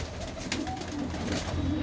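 A pigeon coos close by in a short, steady murmuring run against a constant low background hum.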